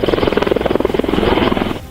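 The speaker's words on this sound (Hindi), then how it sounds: "वहां एक के बाद एक सेना के अपाचे हेलीकॉप्टर सफेद बर्फ की चादर पर जैसे ही उतरे, पूरी घाटी में इसकी आवाज गूंज उठी।" Army Apache helicopters landing on a snowy mountain slope make a loud, close, rapid rotor thump over a dense engine roar, steady and pulsing throughout.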